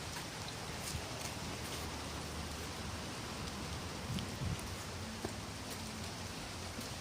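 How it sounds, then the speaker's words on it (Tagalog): Steady broadband rain hiss runs without a break, with faint rustling and a few soft knocks over it and no talking. "Laning kusog ang ulan."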